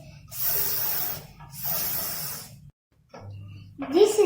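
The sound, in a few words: voice imitating the hissing s sound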